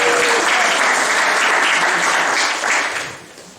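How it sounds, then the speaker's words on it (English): Round of applause from a church congregation at a family service, dense and steady for about three seconds, then tapering off; a voice briefly at the start. "Give them a round of applause."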